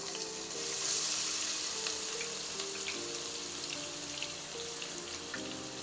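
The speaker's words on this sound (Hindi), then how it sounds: "प्याज को थोड़ा सा फ्राई करना है" In a kadai, onions fry for a Pakistani dhaba-style beef keema, making a continuous bright hiss of sizzling oil. The sizzle holds at an even, fairly soft level with faint crackles and no stirring knocks.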